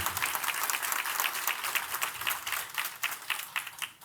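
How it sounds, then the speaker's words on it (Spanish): A church congregation breaks into sustained applause during a sermon, a dense, steady wash of many hands clapping close and loud for about four seconds with no talking over it. "dale un fuerte aplauso al Rey"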